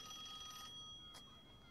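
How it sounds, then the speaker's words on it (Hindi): Telephone ringing indoors, a thin electronic ring buzzing faintly for over half a second, then a short burst, quiet and alone with no talk. "फोन बज रहा है कब से?"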